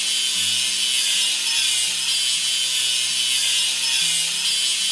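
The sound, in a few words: grinding a seam in kids' LEGO train video game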